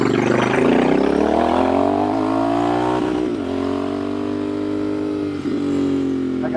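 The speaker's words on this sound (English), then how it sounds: "I got a guy riding up behind us on a motorcycle." A loud engine drone with rising harmonics as a motorcycle closes in from behind, revving steadily; no voices.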